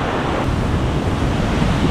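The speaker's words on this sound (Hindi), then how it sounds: "ये वाटरफॉल इतना बड़ा और इतना मेजेस्टिक लग रहा है" A large waterfall on the Kheerganga trek roars with a loud, steady rush of falling water that continues without a break, with no voices over it.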